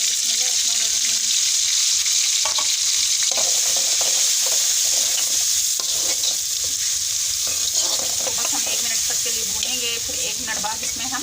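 Tomatoes and spices go into hot oil with browned garlic, giving a loud, continuous hissing sizzle with stirring scrapes and knocks throughout, as a pan of turnips is fried.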